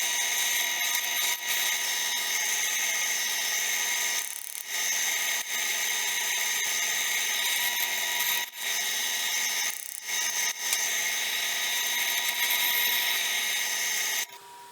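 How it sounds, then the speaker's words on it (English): A drill press boring quarter-inch holes in a knife scale of stabilized oak, resin and honeycomb, a steady high whine running continuously with a few brief dips where the bit pauses. "we'll go over here to the drill press and we'll drill some 1/4 inch holes in it."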